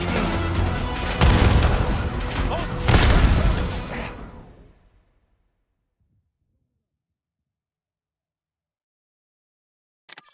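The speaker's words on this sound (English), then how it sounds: "Incoming frag!" Frag grenade blasts in Black Ops 6, two loud booming explosions a second or so apart, each with a crashing burst and rolling decay, followed by sudden silence and a faint click near the end.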